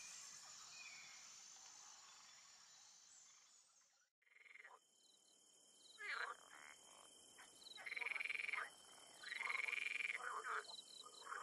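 Frog croaking outdoors in a freshwater habitat, a high continuous trill that breaks off, then repeated bursts of rhythmic rasping calls, fairly close over soft insect and bird ambience.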